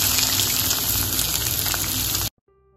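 Dried shidol fish chutney with onion frying in hot mustard oil, a loud, dense, steady sizzle and bubbling that fills the scene for about two seconds before cutting off abruptly to near silence.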